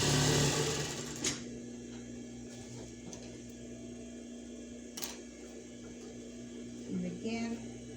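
A sewing machine runs a straight stitch through scrap fabric for a pet bed, its motor giving a steady, moderately loud hum throughout with a few sharp clicks and handling knocks along the way.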